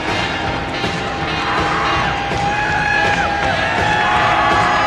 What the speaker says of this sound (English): Big crowd on hand.